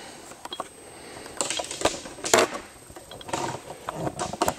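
A camera is mounted on a tripod and its fittings are tightened, producing close, irregular clicks, ratcheting and small mechanical rattles in short bursts, with no talk.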